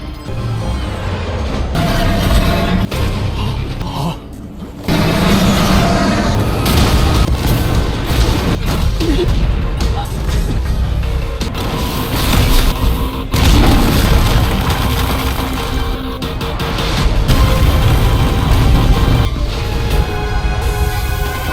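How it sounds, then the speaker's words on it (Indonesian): A massive, continuous nuclear bomb explosion roar with deep rumbling booms rolling on for many seconds, loud and sustained, with no speech. "pesawat prasejarah tersebut langsung meledakkan bom nuklir utama 150 juta ton"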